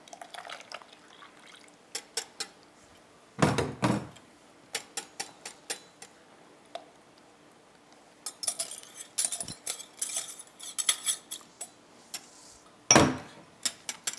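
A spoon stirring milk into a French toast egg and vanilla mixture in a bowl, giving faint, irregular clinks and taps against the dish with a few louder knocks, quiet and close with no talking.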